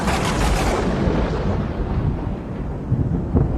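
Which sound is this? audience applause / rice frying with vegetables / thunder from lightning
thunder from lightning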